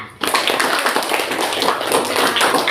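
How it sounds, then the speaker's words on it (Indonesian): Students in a school classroom during a geometry lesson break into applause, a burst of many hands clapping close by that starts abruptly and keeps going without talk over it. "Tepuk tangannya"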